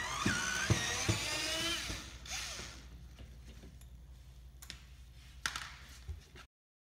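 A Phillips screw is backed out from behind the molding on the side of a Honda Pilot front bumper cover: close mechanical whirring and clicking at first, then fainter scattered taps and rattles, with no talking.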